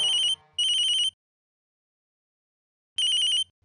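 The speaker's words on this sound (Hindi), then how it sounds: "कब से मैडम का फोन बज रहा है" A mobile phone rings with a bright electronic trilling tone, two bursts close together, a long gap of silence, then a third burst starting again.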